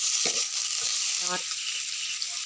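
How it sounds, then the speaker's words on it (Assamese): Pieces of meat frying in hot oil: a steady, bright sizzle runs throughout, with a few soft clinks and stirring knocks from the pan. "তেলত অকণমান ফ্ৰাই কৰি ল'ম"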